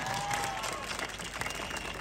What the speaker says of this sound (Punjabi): ਯਾਰ ਇੱਕ ਜ਼ੋਰਦਾਰ ਤਾੜੀਆਂ ਮਾਹੀ ਤੇ ਪ੍ਰਾਂਜਲ ਨੇ।